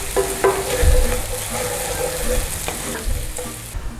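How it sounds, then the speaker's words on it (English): Onions with a pinch of thyme fry in a pan beside pork chops in creamy mustard sauce, a continuous close sizzle with repeated stirring scrapes and light utensil knocks, no talking. "keep working your onions, we don't want to burn them"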